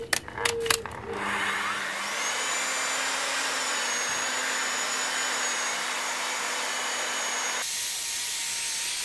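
A rotary polisher pad runs across the paint of a BMW panel during paint correction, giving a steady, close rasping whir that holds level for several seconds after a few brief clicks at the start, then drops off near the end.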